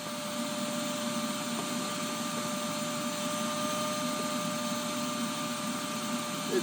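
A vacuum cleaner runs steadily nearby, a continuous loud whining hum with no break and no speech, set beside a Ford Transit 350 van.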